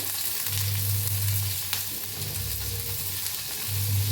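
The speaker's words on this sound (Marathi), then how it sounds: "ह्यांना सगळे खडे मसाले घेतले होते ते भी ह्याच्यात भाजून घेऊया, हलवून घेऊया." Whole spices and chillies roasting in a pan for palak paneer, giving a loud steady sizzle and fry close up, with stirring and a low rumbling hum coming and going underneath.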